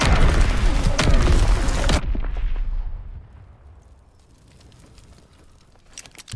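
Incoming artillery shells burst loudly during an online Call of Duty WWII match, a dense barrage of heavy booms for two seconds that cuts off into a fading rumble. Scattered distant shots follow near the end.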